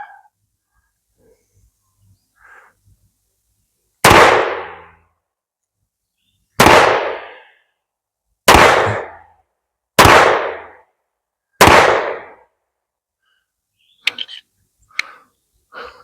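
Five sharp CCI Stinger rimfire gunshots fired through a chronograph outdoors, loud and evenly spaced about two seconds apart, each with a short decaying tail, followed by a few faint clicks and small knocks.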